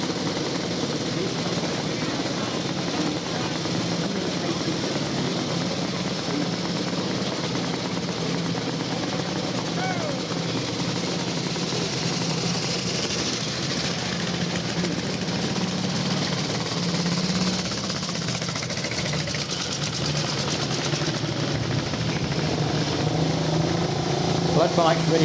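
Vintage motorcycles set off on the Vintage Motor Cycle Club's Banbury Run, their engines rumbling and buzzing steadily at moderate distance throughout, with people talking over the noise.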